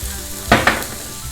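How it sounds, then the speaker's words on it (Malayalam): Thinly sliced onion added to a hot pan while cooking spicy Bellary chicken, giving a short sizzle with two quick bursts of frying noise and a faint crackle between them, close by and with no voices. "ഇനി ഇതിലേക്ക് ഒരു വലിയ സവാള കനം കുറഞ്ഞരിഞ്ഞത് കൂടി ചേർത്ത് കൊടുക്കുക."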